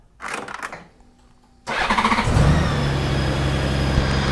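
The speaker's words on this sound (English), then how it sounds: "If I crank the bike up" Honda Goldwing motorcycle engine starting: a brief starter whir, a pause, then the engine catches and settles into a steady loud idle close by, with no talking.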